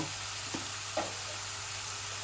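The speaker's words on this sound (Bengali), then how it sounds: "শুটকিগুলা ভাজা হইব, সাথে আমি মূলাগুলাও ভাজিমো" Dried gajar fish and chopped radish fry in hot oil, giving a steady soft sizzle with a couple of faint knocks from a utensil against the pan.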